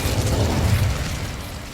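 An Incendio fire spell is cast in the video game Hogwarts Legacy, giving a low, rumbling burst of flame that holds steady at moderate loudness for under two seconds, with no voices.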